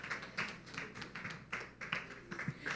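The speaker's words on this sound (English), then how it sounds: "Please, a round of applause as she makes her way to this stage." Quiet, distant claps at an awards stage event as an executive walks up, a loose sequence of about a dozen distinct hand strikes in an uneven rhythm, faint and sparse rather than a full crowd roar.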